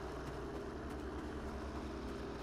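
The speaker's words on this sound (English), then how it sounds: "It is just the sound of an engine in the sky." A steady, droning plane engine from the Battlefield V audio bug on the Fjell map hums continuously overhead, loud and unbroken, with a low rumbling throb and no voices.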